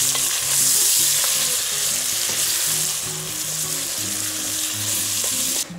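Tomatoes sizzle loudly in rendered duck fat while being stirred in the pot, a close, steady frying hiss with scraping stirring movements and faint music underneath.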